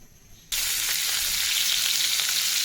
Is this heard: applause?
no